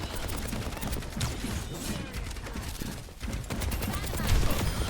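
Soldier 76 firing in the video game Overwatch, rapid bursts of automatic gunfire mixed with game effects in a busy, continuous fight, with a voice talking over the action.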